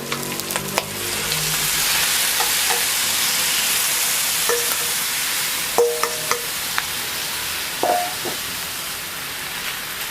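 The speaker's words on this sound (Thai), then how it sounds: "เราจะใส่แล้วนะคะจะใส่วุ้นเส้นแล้วนะคะ" Glass noodles are stirred into a hot pan while making baked shrimp, giving a steady sizzle and frying hiss throughout with a few light scrapes and clinks of utensils against the pan.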